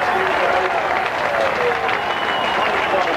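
A large British crowd cheers and applauds at the 1991 British Grand Prix, a dense, continuous roar heard from within the stands.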